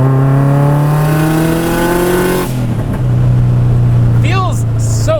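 A garage-built turbocharged all-wheel-drive Mazda Miata accelerates hard under boost, its engine climbing loudly in pitch, then dropping abruptly as the power cuts and settling into a lower drone, heard up close from inside the car.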